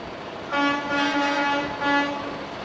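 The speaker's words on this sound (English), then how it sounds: "Now they're in the game of honking horns and playing with each other up and down the street." Truck air horns blare in long, sustained blasts at a county fair parade, with several overlapping honks rising and falling along the street at moderate distance.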